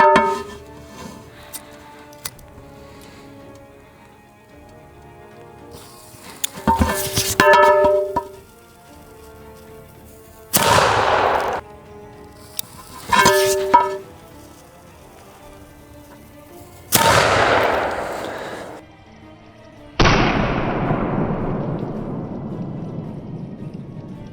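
Gunshots from a historical firearm striking armour ring out as several separate loud blasts, each followed by a decaying echo, with quieter gaps between them.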